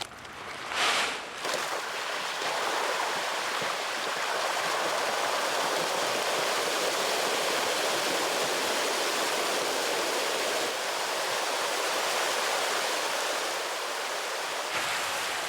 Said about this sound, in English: watch the show while the fish have their breakfast